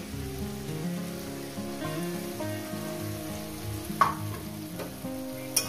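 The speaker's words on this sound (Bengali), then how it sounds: "দিয়ে এটাকে আমি কষতে থাকি" Spice paste with tomato and green chilli sautéing for cauliflower curry, a close, continuous sizzle and crackle with a couple of spoon taps against the pan, and faint background music.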